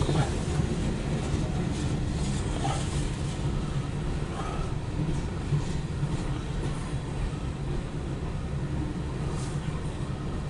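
A CSX mixed freight train passes with a continuous low rumble and rolling rail noise, steady and fairly distant, with no talk.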